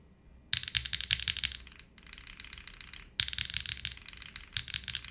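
Typing bursts on a custom mechanical keyboard with long pole switches, quick clacky keystrokes in three runs separated by short pauses, close and clear against a quiet background.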